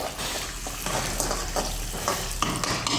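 Peanuts sizzle and crackle in hot oil over a low flame for lemon rice, a steady close frying hiss broken by stirring scrapes, with no talking.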